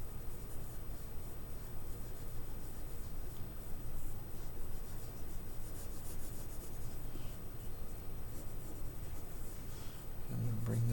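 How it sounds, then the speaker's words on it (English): 2B pencil lightly drawing contour lines on paper, a steady soft scratching and rubbing that runs unbroken and close, with no talk. "now I can go ahead and lightly do my contour line drawing using my 2B pencil"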